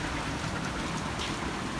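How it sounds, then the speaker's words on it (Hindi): Heavy rain pours down outside a house, seen from above the main door, with water-filled drains below, making a dense, steady roar with no talking. "बारिश भी जो है ना वो बहुत तेज़ बरस रही है"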